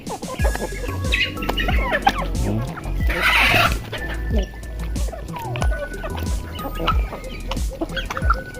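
Turkeys and their newly hatched poults cluck and peep close by in a farmyard, with a voice talking over the steady, busy calls.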